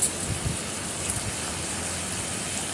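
Lentils, fried and washed beforehand, tipped into a hot pan for khichuri give a dense, steady sizzle, loud at first with a few sharp crackles, then settling into an even hiss with no talk.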